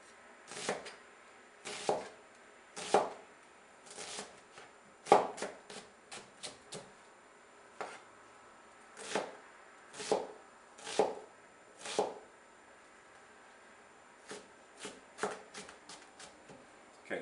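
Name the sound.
chopping onion with a knife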